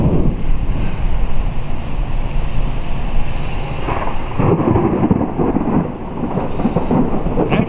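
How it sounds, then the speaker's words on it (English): Thunder from a slow-moving storm rolls in a continuous, loud, deep rumble that swells and fades without breaks, with no talking. "this is about the slowest moving storm I ever seen"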